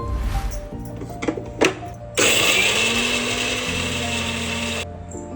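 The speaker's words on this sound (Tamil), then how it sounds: "இந்த மாதிரி குறைன்னு அரைச்சி எடுத்துக்கலாம்." A kitchen mixer grinder whirs loudly as it grinds roasted masala with peanuts into a coarse paste, a sustained high motor roar starting after a few clanks and knocks and running steadily to a sudden stop.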